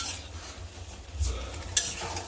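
Potatoes fry in a pan with steady sizzling while a utensil stirs and scrapes, including one sharper clink near the end; no voices.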